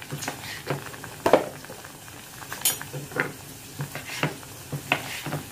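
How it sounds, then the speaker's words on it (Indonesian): Sambal tumpang being stirred in a pot, with soft scraping and tapping strokes of a spoon at an uneven rhythm over a faint background simmer. "Kita aduk ya Bu."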